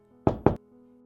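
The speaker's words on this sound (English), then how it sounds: "knocked on the door once more" Two sharp, close knocks on a wooden door in quick succession, loud and crisp against a quiet room with a faint steady hum behind.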